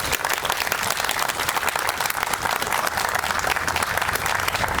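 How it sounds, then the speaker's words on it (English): Steady crowd applause at a branch library grand reopening ceremony, full and continuous for several seconds, close and loud with no talking over it. "I also want to give a round of applause to my other board members here."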